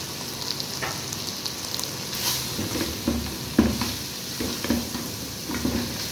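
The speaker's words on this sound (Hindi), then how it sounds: "गाजर जो है वो अच्छे तरीके से इसको फ्राई भी करना है और इसको गलाना भी है।" Carrots fry in a pan alongside chicken strips and mixed vegetables, giving a continuous close sizzle with irregular stirring scrapes and a few sharper clinks of a utensil against the pan, and no talking.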